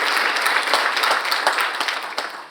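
An audience at an education summit's opening general session breaks into applause, a dense, steady wash of clapping that holds for a couple of seconds before thinning slightly; close and fairly loud, with no speech over it.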